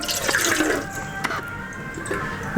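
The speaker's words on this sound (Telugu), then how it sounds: "ఇప్పుడు దీంట్లో ఈ గ్లాస్తో గ్లాసున్నర నీళ్లు పోసుకోవాలి." Water is poured from a glass into an idli steamer pot, splashing and gurgling continuously at close range, loud and uninterrupted.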